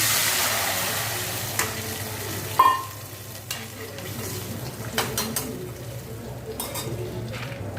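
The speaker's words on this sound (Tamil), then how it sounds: "இங்கே புளி தண்ணி கரைச்சி வச்சுருக்கேன் அதையும் சேர்த்துக்கலாம்" Tamarind water hisses in a hot pan while a spoon stirs and scrapes against the metal, with a soft sizzle throughout and a few sharp clinks of utensil on pot.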